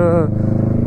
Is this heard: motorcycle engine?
yes